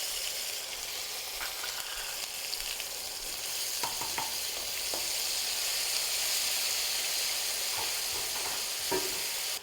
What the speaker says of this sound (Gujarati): અને થોડાક કાજુનો કલર ચેન્જ થાય ત્યાં સુધી સોટે કરી લઈશું.